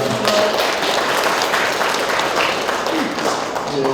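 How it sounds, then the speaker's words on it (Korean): Dense, steady applause from a sizable crowd at an academic symposium on the Jangheung rock inscriptions fills the room, loud and continuous throughout, with faint voices mixed in. "박수 한번 부탁드립니다"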